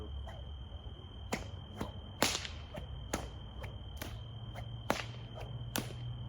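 A whip swung slowly through the second half of a fast helicopter move, its repeated sharp swishing passes landing about every half second to second, fairly close, over a steady insect-like background hum, with no talking.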